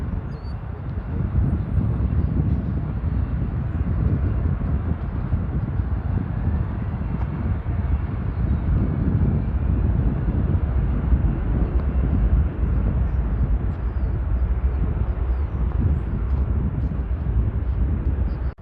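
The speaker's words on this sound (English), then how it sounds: "KLM 787-10 Dreamliner, going to AMS Amsterdam, probably flight 611, taking off from runway 9 center" A KLM Boeing 787-10 Dreamliner takes off from runway 9 center, a steady, loud roar of jet engines that holds for the whole span with broad low rumble and no voices.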